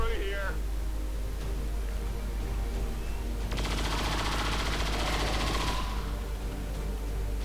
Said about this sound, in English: Or we could use saturation fire